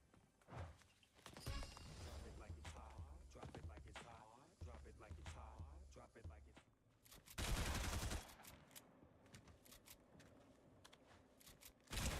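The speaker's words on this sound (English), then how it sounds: "What is he shooting me with?" Gunfire in the Fortnite video game: a busy stretch of rapid shots and impacts, a loud burst of sustained automatic fire in the middle, then scattered sharp cracks trailing off.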